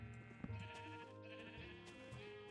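Sheep bleat in a steady, drawn-out call with a clear wavering pitch, near and alone, followed by a shorter second bleat toward the end.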